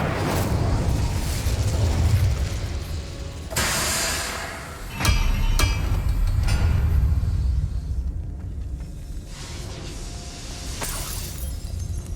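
Fiery spell bursts from an Incendio cast in Hogwarts Legacy, heard as loud booming whooshes and crackling blasts with sharp impacts near 3.5, 5 and 5.5 seconds over rumbling game ambience.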